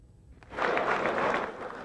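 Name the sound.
applause in Russian parliament for Gorbachev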